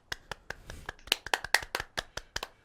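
A run of about a dozen sharp hand claps in a loose, uneven rhythm, fairly close and moderately loud, with no talk over them.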